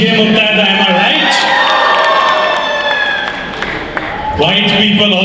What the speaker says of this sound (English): White people also booing to that